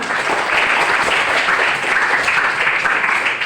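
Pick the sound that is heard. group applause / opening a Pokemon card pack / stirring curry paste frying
group applause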